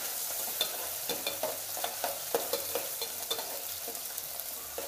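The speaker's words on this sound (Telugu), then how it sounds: "ఉల్లిపాయలు వేగాయి కదా" Thinly sliced onions sizzle steadily in a pan for a country chicken curry, with a spoon stirring and scraping through them in frequent, irregular strokes close by.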